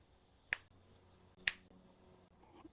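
Two sharp, isolated snaps or claps sound about a second apart in a small woodworking shop, crisp and close against a quiet background with faint low hum.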